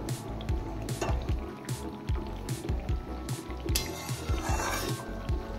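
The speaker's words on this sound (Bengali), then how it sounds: "এবার মশলাটা একটু ভালো করে ফ্রাই করে নেব।" A spice paste of tomato, green chili, salt and turmeric fries in a pan. Soft, wet sizzling sits under rhythmic stirring scrapes and squishes, close and moderately loud.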